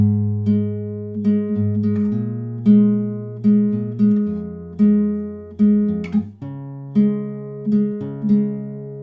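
Fingerpicked acoustic guitar plays the chorus of a song, with single plucked notes in a steady, gentle picking pattern, each ringing and fading before the next, close and clear with no voice.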